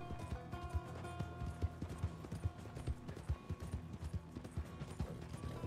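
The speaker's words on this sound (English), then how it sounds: "I love this horsey, so pretty horsey." Horse hooves clip-clop steadily over background music as a rider travels in the RedM roleplay game, the regular footfalls close and moderately loud throughout.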